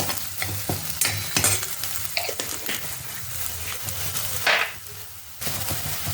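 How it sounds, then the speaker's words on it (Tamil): A ground paste of onion, green chili, ginger and coriander sautéing in a hot pan, a steady close sizzle broken by scraping stirs throughout. "வெங்காயம், பச்சை மிளகாய், இஞ்சி, கொத்தமல்லி இதை சாப்பரில் நல்லா கிரைண்ட் பண்ணி எடுத்துக்கிட்டேன். சேர்த்து வதக்கின்னு இருக்கேன்."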